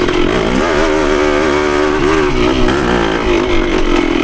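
A Yamaha CT3 175 motorcycle engine burbles loudly and continuously during a ride over rough ground with the throttle off, its pitch wavering up and down.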